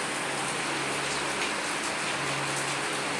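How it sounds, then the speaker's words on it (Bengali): Rain falls steadily outdoors, an even broadband hiss of drops on surfaces that holds constant at moderate level with no break and no voices. "সুন্দর বাইরে ঝাপা বৃষ্টি হচ্ছে"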